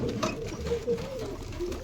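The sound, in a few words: pigeons cooing at a pigeon loft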